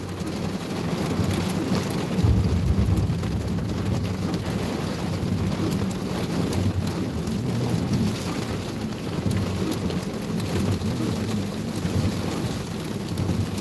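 A thunderstorm in Indiana, with steady rain and a low rolling rumble of thunder heard from inside a moving storm-chasing vehicle, a dense continuous roar mixed with wind buffeting the microphone, with no voices.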